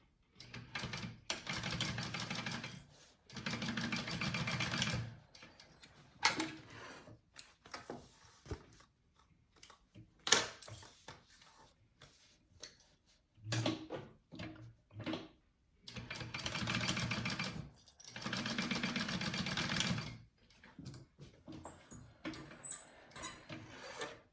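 A sewing machine bastes the top and bottom of a handbag panel in repeated short bursts of quiet, rapid stitching, separated by brief pauses and stops.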